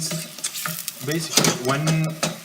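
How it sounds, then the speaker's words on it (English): Onions soft-fry, sizzling and crackling in a hot pan while a utensil stirs and scrapes against it in quick, irregular strokes, close up. "Now we are soft frying our onion."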